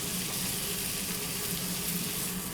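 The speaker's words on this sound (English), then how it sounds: "Just gonna add a thin layer of the grated potato." Grated potato sizzles steadily in foaming butter in a pan for a rösti, a close, even frying hiss with no pauses.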